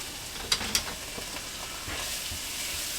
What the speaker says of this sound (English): we're just going to try to saute these onions a little bit